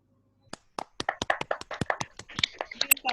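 Webinar participants clap their hands in a brief scattered burst, sharp irregular claps building over a few seconds and picking up pace toward the end, fairly close over a quiet line.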